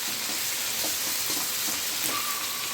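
Onion and chicken fry in a large wok for a two-kilo batch of Dak Bungalow chicken, giving a steady loud sizzle with faint stirring clicks and a brief thin whine near the end, and no voices.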